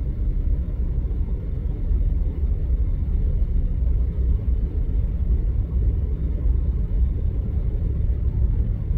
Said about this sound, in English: Big old Chevy going by.